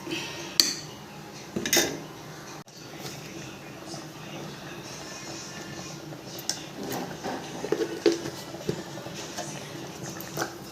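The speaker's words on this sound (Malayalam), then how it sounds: "ഇത് ഇളക്കി വറ്റിച്ചെടുക്കണം നമുക്ക്." Carrot halwa simmering in milk is stirred in a pan: light spoon clinks and scrapes with a couple of sharper knocks, while a person talks over the cooking sounds.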